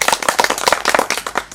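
An audience at a Maithili nach party stage show breaks into loud, fast clapping, crisp overlapping hand claps in a steady burst, close and bright.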